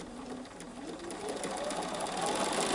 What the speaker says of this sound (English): So now I'm ready to stitch these half square triangles.